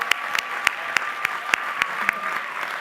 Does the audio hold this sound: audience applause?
yes